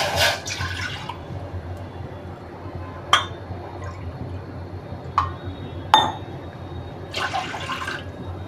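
Water from a small bowl is poured into a cooking pot, two bowlfuls for a coconut-milk dough; soft liquid splashing comes in short bursts, with a few sharp metallic clinks of bowl against pot.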